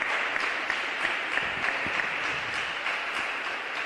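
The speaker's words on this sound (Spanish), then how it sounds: "Dele un aplauso al Rey de Reyes y Señor de Señores" A congregation at a church youth service applauds steadily, a continuous wash of clapping hands with faint individual claps poking through, sustained at even loudness throughout.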